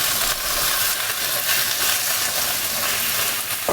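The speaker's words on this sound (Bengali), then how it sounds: "এখন শুধু এটাকে নাড়বো আর নাড়বো, জাল বাড়িয়ে নাড়তে হবে" Beans, potato and cauliflower fry in a pan, giving a steady, loud sizzle with faint scraping as the vegetables are stirred, close and continuous.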